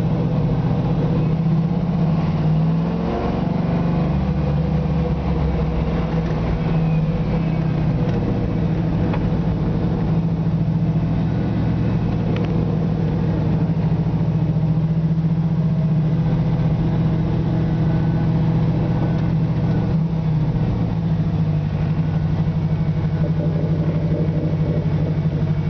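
A 1973 Camaro Z28 with a Flowmaster exhaust idles nearby, a deep, steady, loping rumble that holds constant for the whole stretch, loud and close, with no talking.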